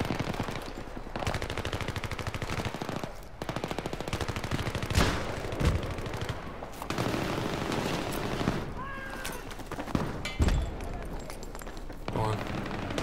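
Gunfire in the shooter game Battlefield 3, a rapid automatic rattle with occasional heavier blasts running through the whole stretch, heard under frequent talking.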